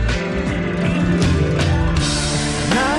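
A loud post-grunge Christian rock song plays with thick, sustained guitars and a sung vocal line.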